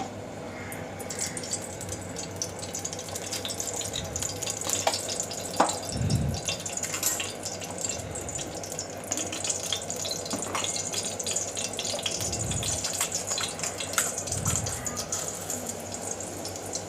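Two spoons of oil sizzle in a kadai heating for tempering, a steady close hiss with a few soft low knocks from the pan and spoon throughout.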